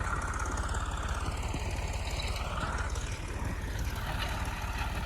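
A tractor engine runs steadily nearby with a low, even idling throb and a faint knocking rhythm, with no voices.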